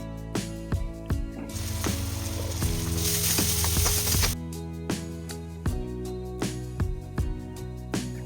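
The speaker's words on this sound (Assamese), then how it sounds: "ব্ৰাউন কালাৰ কৰি পিঁয়াজখিনি ভাজি ল'ম" Sliced onions fry with cumin in hot oil, turning brown for an Assamese fish curry. A loud sizzle swells for a few seconds among sharp, irregular clicks and taps of stirring, then fades back to scattered clicking.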